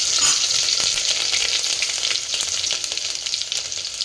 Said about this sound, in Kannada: ಎಣ್ಣೆ ಕಾಯಕ್ಕೆ ಇಟ್ಬಿಟ್ಟು ಒಂದು ಸ್ವಲ್ಪ ಸಾಸಿವೆ, ಒಂದು ಸ್ವಲ್ಪ ಜೀರಿಗೆ, ಒಂದು ಗೆಡ್ಡೆ